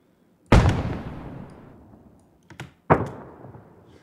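Firework explosion effects in an Unreal Engine 5 game scene: a sharp loud bang with a long rumbling decay, a small pop, then a second loud blast trailing off, heard alone.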